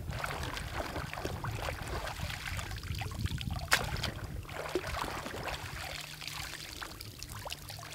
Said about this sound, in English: I didn't manipulate it other than uh, swashing it back and forth in the water